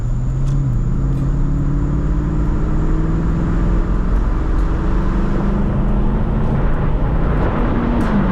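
Chevrolet Corvette engine in track mode with valves open, a steady loud rumble with rising and falling rev tones, heard from inside over constant road and wind noise.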